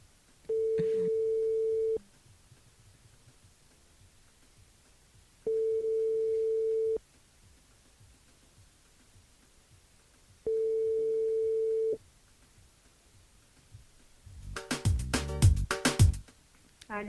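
A telephone line tone sounds while a radio show dials a listener: three identical steady beeps of about 1.5 seconds each, evenly spaced with silent gaps, followed by a short loud burst of clatter as the call connects.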